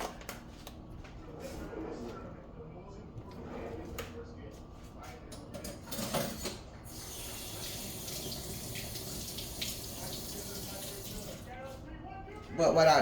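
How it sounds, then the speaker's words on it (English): Grits and water poured into a cooking pot give a continuous soft watery pouring and rustling, moderately faint and steady with small bursts, over a kitchen background. "So I'm gonna pour my grits in here."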